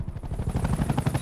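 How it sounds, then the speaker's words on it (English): A CGI helicopter going down in a Christopher Nolan film, heard as a loud, close, rapid rotor chop pulsing throughout. "A helicopter crash is CGI"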